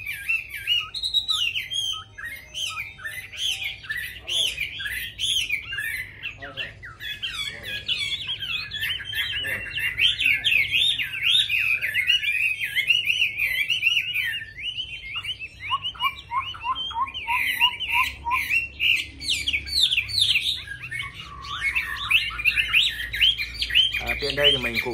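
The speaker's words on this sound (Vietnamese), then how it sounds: "mình đang quay cho các bạn xem con họa mi rất là đẹp" A hwamei songbird kept at a bird shop sings loud, varied, rapid phrases of whistles and trills close to the listener, continuing throughout over a low background rumble.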